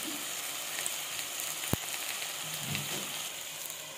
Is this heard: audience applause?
no